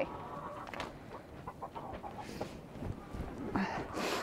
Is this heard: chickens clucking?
yes